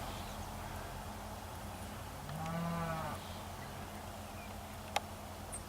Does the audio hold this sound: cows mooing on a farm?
yes